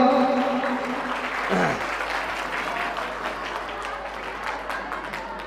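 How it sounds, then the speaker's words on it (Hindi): A crowd at a Birsa Munda Jayanti gathering claps loudly and steadily, with a brief voice and tone at the start under the sustained applause. "एक जोरदार से तालियां हो।"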